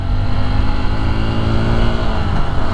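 A Honda XR150L motorcycle engine revs up close as a beginner rider tries rev-matching, giving a loud, steady, throaty drone for a few seconds with no talking.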